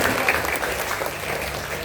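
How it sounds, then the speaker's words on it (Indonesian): Audience applause at a children's storytelling session with Kak Mal, a steady wash of many hands clapping close and fairly loud, continuous throughout with no talk over it. "Pinter, tepuk tangan dong."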